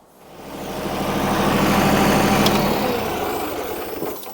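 A tractor engine starts and settles into a steady idle outdoors on a frozen winter trail, a loud mid-low mechanical rumble building over a few seconds and holding, with no talking.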